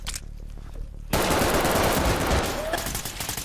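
Enemy gunfire in a first-person shooter video game, unsuppressed weapons set in an American-style location; a sudden loud, dense burst of shots cuts in after a second and keeps going as a continuous roar of fire to the end.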